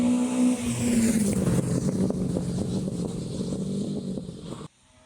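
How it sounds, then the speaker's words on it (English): A loud Group A rally car engine, on a historic rally special stage, roars steadily, its pitch sliding lower and revving unevenly, then cuts off abruptly near the end. "now listen this A group engine"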